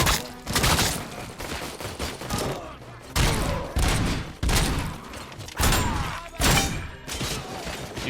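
Gunfire from Robocop: Rogue City comes in heavy repeated bursts, loud and close, with short gaps between volleys and a thudding low end.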